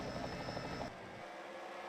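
A helicopter's steady rotor and engine drone fills the scene during a racing broadcast. It is loud at first, then drops sharply in level partway through and continues more faintly.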